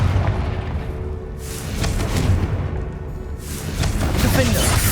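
Confringo blasting spell going off in Hogwarts Legacy, a series of loud booming blasts and bursts in a busy fight mix, with spoken voices layered over the explosions.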